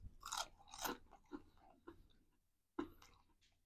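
Fried shrimp is crunched and chewed close to the mic, giving several crisp bites with short pauses between them and a sharp final crunch, with no talking.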